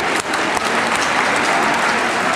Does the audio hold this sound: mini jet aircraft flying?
no